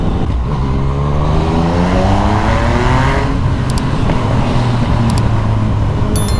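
A loud motorcycle engine revs up close, its pitch climbing steadily as it accelerates, then holding a high droning note.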